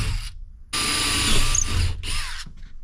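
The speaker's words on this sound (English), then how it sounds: "Let me grab a drill bit so I can drill it." A power drill bores holes into a custom wood overhead console for a 1986 C20 Suburban, with two close, loud whining bursts of about a second each, split by short pauses and a final brief spin.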